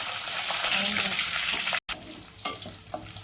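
Curry leaves crackling in hot sesame oil with dried fish for a dried-fish curry, a bright, close sizzle that cuts out for an instant and returns with spattering pops.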